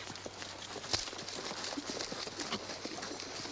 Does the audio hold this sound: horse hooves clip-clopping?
yes